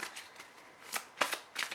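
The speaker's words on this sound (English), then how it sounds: "I'm going to redo that shuffle" A deck of tarot cards being shuffled by hand, several quick riffling bursts at close range, crisp and fairly quiet, with no talking.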